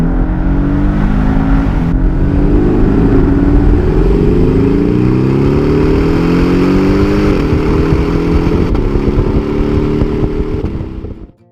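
A Porsche 718 Boxster S from 2016 with a turbocharged four-cylinder engine revs hard and loud for over ten seconds, pitch climbing through rising gear-like sweeps before cutting off abruptly at the end, with no talk.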